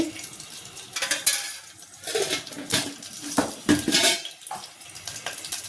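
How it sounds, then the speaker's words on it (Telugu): A pan is set down on a kitchen stove and oil is added for frying eggs. Metal clanks and scrapes come up close in irregular bursts over a running-water wash. "గుడ్లు ఫ్రై చేసుకోవడానికి గిన్నె పెట్టాక ఒక స్పూను నూనె వేసుకోండి."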